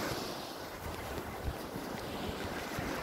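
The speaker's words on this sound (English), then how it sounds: "the peaceful sounds of just the sea rolling in" Sea waves rolling in on the shore at Skegness, a steady broadband wash with wind buffeting the microphone throughout, no voices.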